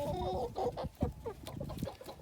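Ornamental hens and roosters, including amber and porcelain bantam cocks, cluck repeatedly at close range outdoors in a backyard pen, a busy overlapping chatter of short calls.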